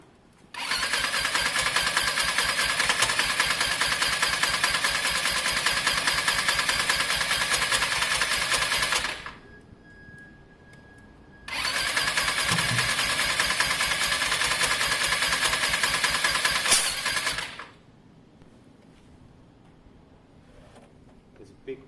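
Lexmoto Diablo 125cc motorcycle engine running loudly and steadily in two long bursts with a short quiet gap between, spitting and popping from crankcase pressure build-up, heard close up.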